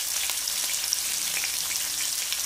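Onions frying in a pan for an egg and chickpea masala, a steady, close, continuous sizzle with no pauses and no voices.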